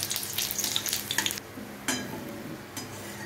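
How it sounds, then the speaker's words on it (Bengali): Garlic fries in oil for a bhorta made with charred stems, a bright crackling sizzle with stirring scrapes for over a second, then a quieter steady fry with a couple of fresh bursts as more is stirred. "এরপর দেখো দেব রসুনটাকেও আবার লাল লাল করে ভেজে নেব।"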